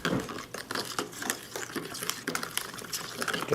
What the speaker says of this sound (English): I'm going to just go ahead and stir this up